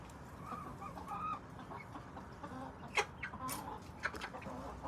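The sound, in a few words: chickens clucking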